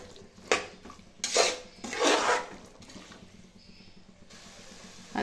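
Masala curry with a spoonful of coriander powder being stirred in a pan, giving a few bursts of scraping and clinking from a spoon, close by and moderately loud, with quieter pauses between strokes.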